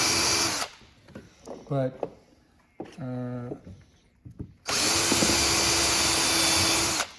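A power drill bores into hard candy in short bursts, then runs long and loud at the end, with a person speaking between the bursts.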